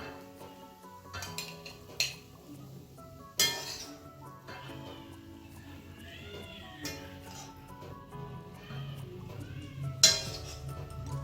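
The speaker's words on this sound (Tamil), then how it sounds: "இப்போ நம்ம இது ஒரு பவுலில் சர்வ் பண்ணிக்கலாம்." Egg chukka is served into a bowl, with scattered sharp clinks and knocks of a spoon and dishes at close range, a few louder strikes among softer scraping, no talking.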